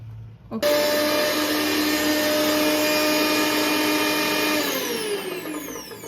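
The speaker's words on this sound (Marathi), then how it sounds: "त्याला मिक्सरमध्ये लावायचं. ह्याच्यामध्ये कोथिंबीर, मिरची आणि कढीपत्ता." A kitchen mixer grinder starts abruptly and whirs loudly with a steady high whine while grinding coriander, green chillies and curry leaves, then winds down slightly near the end, heard alone without talk.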